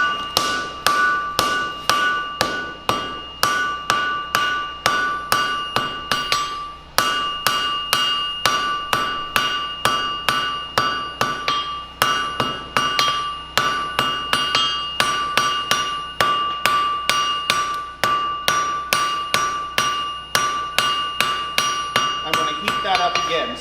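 Hand hammer forging a taper on hot 1/4-inch steel stock at an anvil in a blacksmithing class, a long steady series of bright ringing metallic blows with brief pauses, close and loud.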